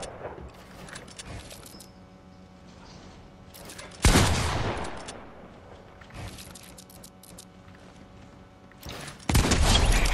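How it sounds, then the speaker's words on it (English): Video game gunfire during a tilted zone wars match: a few faint shots, then a loud burst of blasts with a decaying rumble, and another sudden loud blast at the end. "No, I shot you first!"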